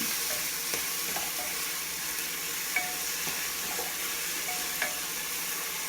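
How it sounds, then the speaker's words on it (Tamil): Onions and tomatoes sautéing in a pan for mutton chalna, a constant close sizzle punctuated by scattered light clinks and scrapes of a spoon against the pan, no talking. "வெங்காயம் பாதி வதங்கினா பிறகு தக்காளி போடணும்"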